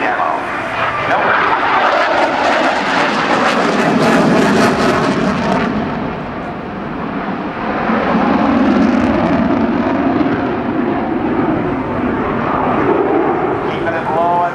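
F/A-18C Hornet jet making a low pass at a 2008 naval air station airshow, its loud roaring engine noise sustained throughout with a swelling peak midway, while an announcer talks over it.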